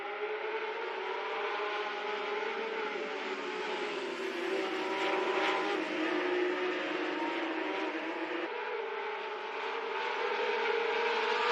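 Several race cars roar together at the start of a New Zealand SuperLap sim-racing session, a dense, steady engine drone with rising and shifting pitches that stays loud and continuous throughout.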